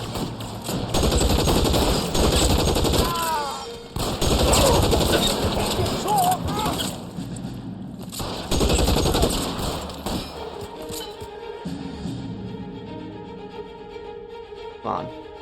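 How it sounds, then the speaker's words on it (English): World War II Thompson submachine gun firing in the LA Noire video game, with long loud automatic bursts separated by short pauses, and game voices and bird coos mixed in. "This is a World War II Thompson right here."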